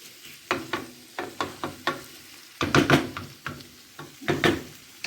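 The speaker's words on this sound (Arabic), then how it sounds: "دابا نخليوه حتى يتقلى لنا الدجاج والبصله" Chicken pieces and onion frying in a pan for seafood paella, with repeated scraping stir strokes over a steady close sizzle, about eight clusters of utensil clatter across the stretch.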